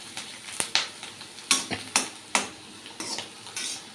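Onion, curry leaves, carrot and beans stirred in oil in a pan, about ten sharp scraping clinks of a spoon against metal at an irregular rhythm, close and distinct over a faint sizzle.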